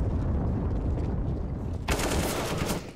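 Automatic gunfire in Counter-Strike: Global Offensive erupts partway through as a loud, rapid burst of cracking shots, following a stretch of muffled in-game ambience and rumble, with no voices over it.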